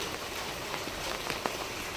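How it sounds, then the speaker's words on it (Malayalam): Heavy rain falls in a dense, even hiss of drops striking surfaces, with a few louder nearby splats, steady and unbroken with no voices. "നല്ല മഴ പറഞ്ഞാൽ നല്ല മഴ കേട്ടോ"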